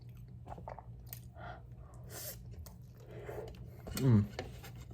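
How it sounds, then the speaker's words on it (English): Close, wet chewing and soft crunching of a chocolate pancake runs throughout, with a brief louder vocal sound near the end. "try the chocolate pancake"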